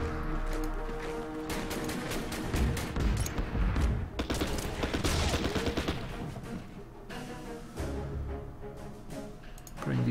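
Rolling volleys of rifle and artillery fire from the strategy war game Order of Battle crackle and thump in overlapping bursts against a steady tonal backdrop, fairly quiet and continuous throughout.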